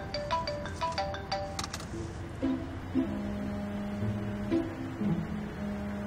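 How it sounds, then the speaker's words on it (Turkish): A phone ringtone signals an incoming call, a melodic electronic ring of repeating tones playing clearly for several seconds, with no speech over it. "Açabilirsin telefonu."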